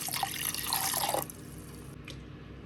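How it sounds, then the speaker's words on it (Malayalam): Water poured into a coriander and lemon juice drink mixture, a bright splashing pour for just over a second, then a quieter trickle and a few faint drips, with no talking. "ഇതിലേക്ക് ആവശ്യത്തിനുള്ള വെള്ളം ഒഴിച്ചു കൊടുക്കാം."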